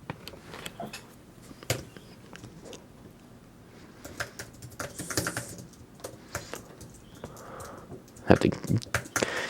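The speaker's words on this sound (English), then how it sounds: "Let's see a little more typing on it." Typing on an Apple Magic Keyboard 2, with irregular bursts of sharp key clicks and taps up close, a flurry of faster strokes near the end, and light speech in between.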